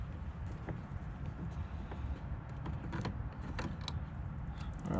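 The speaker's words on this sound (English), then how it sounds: "We're gonna pull this off because this one is connecting the door card on." Plastic trim clip prised off a Subaru WRX door card inside the car, giving scattered small creaks and clicks against a steady low background hum, close and fairly quiet, with no talking.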